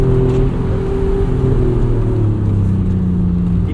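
1992 Acura NSX driven through a canyon, steady engine hum and road rumble heard from inside the cabin, revs easing slightly, no voices.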